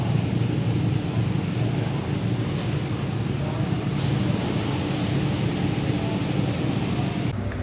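Motorcycles circling the Silverstone full GP circuit during a track day, heard as a steady, loud broadband engine roar with wind buffeting throughout, no single bike standing out clearly.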